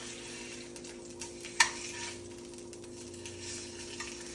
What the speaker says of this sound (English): I have the steak cooking right now